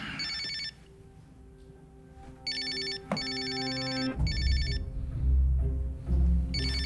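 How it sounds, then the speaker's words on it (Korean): A telephone rings in a tense Korean TV drama scene, repeated electronic ringtone bursts with gaps between them, over low background music and rumble. "전화 받으세요."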